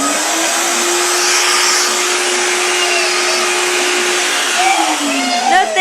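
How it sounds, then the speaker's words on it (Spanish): Household vacuum cleaner running indoors to clean a rug, a loud, steady whining drone heard up close that holds for several seconds before its pitch starts to drop near the end. "Bebecha, voy a encender la aspiradora, no tengas miedo"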